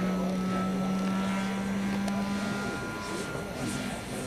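A radio-controlled model airplane flies at a demonstration event, its engine giving a steady, fairly loud drone throughout, with an announcer and crowd voices mixed in over a broad outdoor wash.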